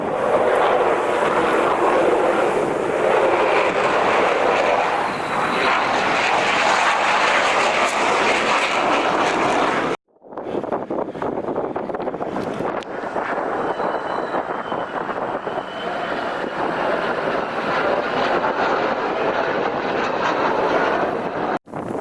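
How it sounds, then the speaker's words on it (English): F-16 and F-22 fighter jets fly over a beach at an air show, a loud continuous roar of jet engines with wind buffeting, briefly cut off midway and then resuming just as strongly. "More fighter jets are coming."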